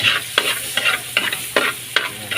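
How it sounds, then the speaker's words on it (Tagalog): Margarine sizzles in a pan as it is stirred, with about six rhythmic scraping sweeps roughly every 0.4 seconds over a steady hiss. The sound is close and moderately loud, with no talking. "so ang next po ay magigisa na ng margarine"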